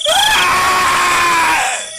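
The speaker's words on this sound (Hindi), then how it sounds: "इतने में बहुत जोर से चीखने की आवाज आती है।" A loud, sustained scream as a sound effect in a Hindi horror story about a witch, one long, piercing cry that holds steady for nearly two seconds before fading out, with no speech over it.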